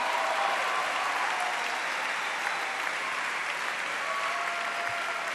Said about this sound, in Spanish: ¿y estos locos que aplauden?